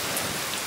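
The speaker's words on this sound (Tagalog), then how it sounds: "Kalakas ng ulan, tsaka mahangin pa." Heavy rain with strong wind in the Netherlands, a dense steady hiss of falling water, loud and close, with no voices.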